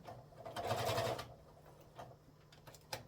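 A sewing machine stitches a tablet sleeve, a brief whirring run of rapid needle strokes followed by a few scattered clicks and taps, fairly quiet and close.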